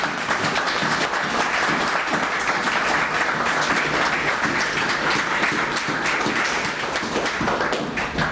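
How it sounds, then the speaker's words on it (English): A debate audience for Attleboro state representative candidates breaks into loud, sustained applause, a thick, continuous wash of clapping from a packed room that holds steady for the whole stretch. "I'd like to offer a round of applause for our candidates this evening"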